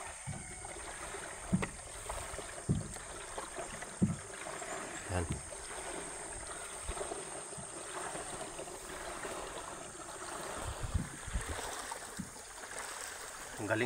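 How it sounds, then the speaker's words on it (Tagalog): Rhythmic paddle strokes dip into water every second or so, with gentle splashing and trickling around a small wooden boat; a voice speaks briefly. "Ang galing magbugsay pala nito."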